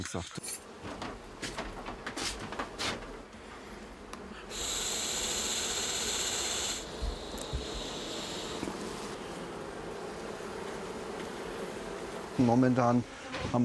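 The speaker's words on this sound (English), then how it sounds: "Right now it's quite crowded because of the relocated bee colonies we had to put here when fleeing the poisoning." Relocated honeybee colonies crowded together outdoors give off a steady buzzing drone, with louder passes from individual bees near the listener and faint background noise.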